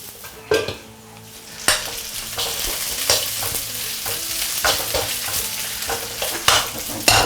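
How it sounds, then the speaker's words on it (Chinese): Dried chilies and Sichuan peppercorns sizzle in hot oil in a wok over low heat while a spatula stirs and scrapes repeatedly, steady frying under irregular metallic strokes. "我们小火慢慢去煸， 把这个干辣椒的味道和干花椒味道给它煸出来。"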